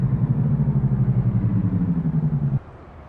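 A Peterbilt truck engine in American Truck Simulator rumbles in a steady, throbbing pulse close up, then drops off sharply to a much quieter hum.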